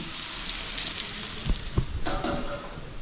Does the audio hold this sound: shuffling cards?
no